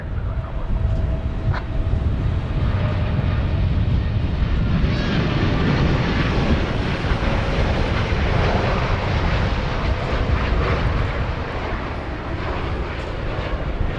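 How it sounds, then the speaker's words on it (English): A Boeing 747-8 freighter jet passes at an airport, a sustained loud rumbling roar of engines holding steady throughout, with faint whine above the broad noise. "7478 freighter."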